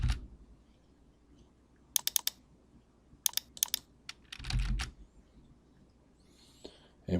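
Text is typed on a computer keyboard while working in Visio Online, with short clusters of crisp close key clicks separated by pauses and a couple of duller thuds or mouse clicks.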